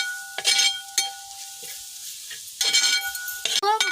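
Onions frying with chili and turmeric powder sizzle in a pan as a spoon stirs them in loud, scraping bursts, with quieter stretches of sizzling in between.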